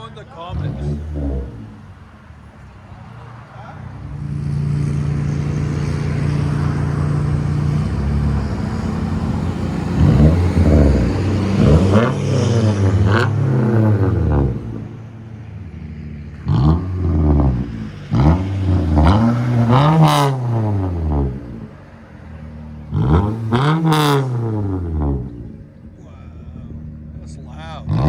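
Loud, close exhaust bursts come from a 2014 Toyota Corolla S, its 1.8L inline-four running without a muffler, starting with a steady idle-like hum and building to repeated sharp revs with rising and falling pitch.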